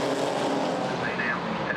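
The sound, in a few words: GT4 race cars at Brands Hatch accelerating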